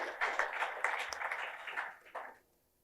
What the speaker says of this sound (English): let's give a huge round of applause to Mr. Mahesh and Mr. Bhaskar